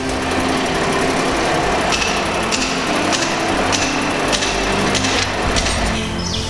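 A GreatCity MT6300 noodle making machine runs steadily, a dense mechanical whirr with repeated light rattling clicks at roughly regular intervals, loud and close with no talk.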